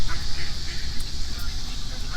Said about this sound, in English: I got all these ducks around here.